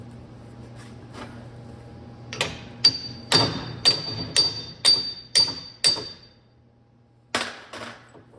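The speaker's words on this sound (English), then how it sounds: "Sometimes you have to tap a couple times, get enough thread showing." A hammer tapping on a part of a Dana 44 axle during a Jeep JK Rubicon re-gear, a run of about eight sharp metallic ringing strikes in a steady rhythm, then a short pause and two more taps, close and clear over a low hum.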